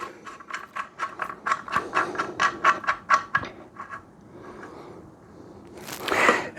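A ratchet wrench tightening a bolt on a Briggs V-twin engine, a quick run of sharp clicking strokes followed by a pause and a short rustle, close and fairly loud.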